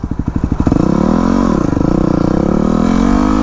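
A Yamaha WR250R in supermoto trim, its single-cylinder engine starting with rapid loud chugging pulses, then settling into a close, steady idle with slight rises in pitch.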